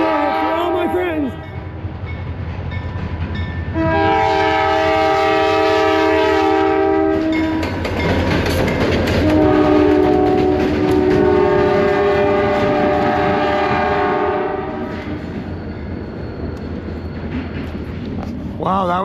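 A train rolls past with loud rumbling and clatter, its horn blaring in long sustained blasts, steady and close throughout.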